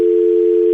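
A steady, loud telephone dial tone hums unbroken on a radio show's phone line when a call fails to come through, with no voices over it.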